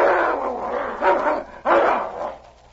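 Dogs snarl and bark in bursts while fighting in snow in the Yukon, loud and close, with rough growling swells separated by brief lulls before the noise fades.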